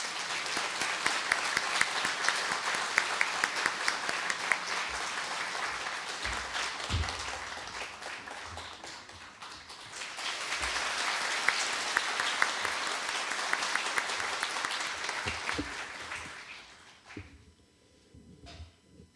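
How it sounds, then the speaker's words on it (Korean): Sustained audience applause in a hall welcoming the university president of Pusan National University at his farewell ceremony, a dense steady clatter of many hands that swells, briefly dips, swells again and fades out near the end. "큰 박수로 환영해 주십시오."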